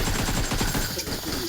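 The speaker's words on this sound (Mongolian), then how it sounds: "Энд хоёр хүн намайг алах гээд буудаад байгаа" Rapid gunfire crackles in the video game PUBG, a quick burst of shots close and loud for a moment.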